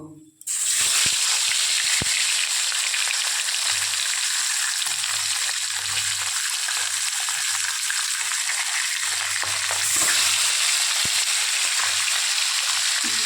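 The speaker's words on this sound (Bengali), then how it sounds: "দেখুন তেলটা গরম হয়ে গেছে এবার আমি একে একে পম্পলেটগুলোকে ভেজে নেব" Pomfret fish drop into hot oil with a sudden loud burst of sizzling that settles into a dense, steady frying hiss lasting throughout, close and loud, with faint intermittent low hum underneath.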